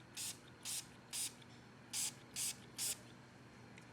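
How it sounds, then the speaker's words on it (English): Six short, crisp spritzes from a small atomizer misting absinthe inside a glass, coming in two groups of three with brief pauses between them, close and clear over a quiet background. "we're going to spray the inside of the glass here"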